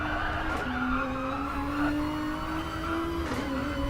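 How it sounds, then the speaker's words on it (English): A GT3 race car in the GT Sport racing game holds a loud, steady engine whine during a Nürburgring 24-hour event, broken by quick gear-change blips as the pitch drops and climbs again. "Listen to those gear changes."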